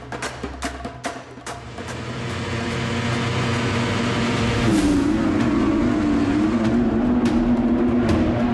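Speedway motorcycles race into the first turn, their engine roar swelling from a distance into a loud, sustained howl that fills the track.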